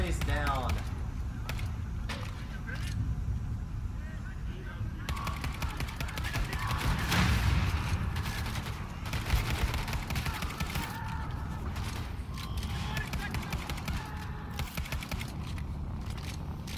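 Repeated pistol shots firing with magnum ammunition in the Wolfenstein 2: The New Colossus shooter, sharp bursts scattered through dense game action and music, with people talking over much of it.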